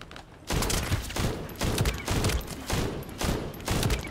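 Bursts of rapid gunfire from a weapon in the shooter game The First Descendant, several loud close volleys in quick succession after a brief quiet start, with no talking.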